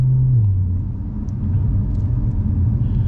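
A Porsche 992 Carrera S rolls slowly over a rough, broken road, its engine a steady low drone under continuous road rumble and suspension thumps, close and fairly loud with no voices.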